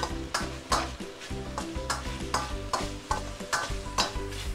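Chili stir-fried in garlic oil in a wok, a steady loud sizzle broken by repeated sharp scraping strokes of the spatula at a brisk, regular rhythm, up close with no voices.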